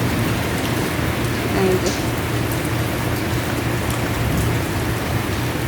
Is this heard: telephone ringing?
no